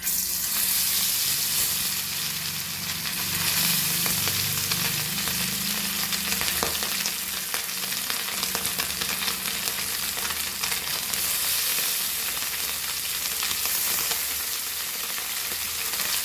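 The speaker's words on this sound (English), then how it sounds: "once the oil is hot, we have to just fry our fish" Fish frying in about two tablespoons of hot oil on a flat tawa for a Goan fish curry, a loud, continuous close sizzle and crackle that holds steady throughout with no talking.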